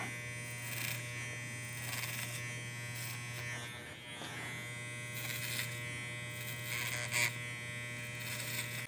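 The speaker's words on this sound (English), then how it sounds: "we're going to continue working clipper over comb, leaving that length in the front" Electric hair clippers buzzing steadily while cutting a man's hair clipper over comb, a close, continuous hum with slight flickers as the blades move through the hair.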